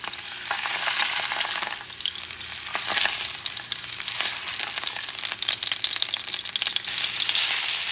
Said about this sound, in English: And you're going to start cooking the sausages.